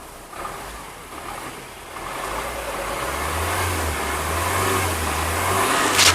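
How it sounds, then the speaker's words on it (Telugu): A 2018 Maruti Ertiga VDI diesel engine cranks and catches, then settles into a steady, low, rumbling idle that grows slightly louder over several seconds, heard up close with no talk. "ఒకసారి ఇంజిన్ కూడా స్టార్ట్ చేసి చూపిస్తాను"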